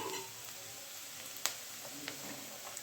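Carrots and capsicum fry in a home kitchen pan with a quiet, steady sizzle, broken by a couple of faint clinks from stirring.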